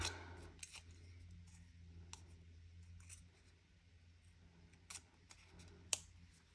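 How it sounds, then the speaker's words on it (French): Scissors snip through paper to cut out a small triangle for a mini suitcase scrapbooking craft, giving several quiet, crisp cuts spread across a soft background hum. "on va venir découper un triangle"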